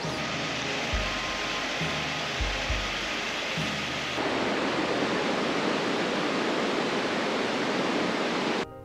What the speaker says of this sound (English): And over there, there's a waterfall.